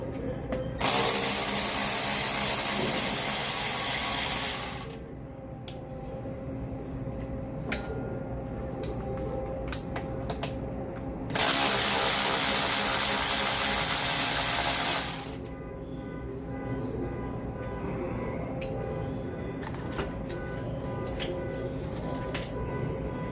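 A powered driver or ratchet removes screws from a lawn mower engine's carburetor: a loud, high mechanical whir runs in two bursts of about four seconds each, with quieter clicks and handling sounds between them.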